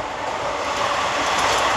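A train running, a steady close rumble and rattle of the carriage throughout this short moment, with no voices.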